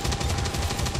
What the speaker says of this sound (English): Laying down a lot of gunfire.